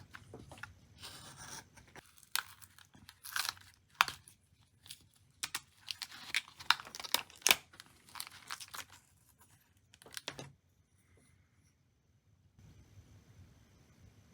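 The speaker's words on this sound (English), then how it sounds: "So I guess I'll just go ahead and get to cutting them out." Plastic model kit parts being cut from the sprue for an HO scale steam engine tender, a quiet close series of irregular snips, clicks and crackles with pauses between, no voices.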